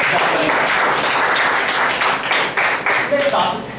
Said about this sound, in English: Give a big round of applause to Mr. Appu for doing